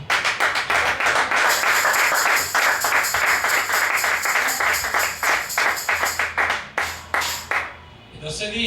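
A church congregation claps in a loud, rhythmic burst of applause, sharp individual claps merging into a steady stream before thinning out and fading at the end.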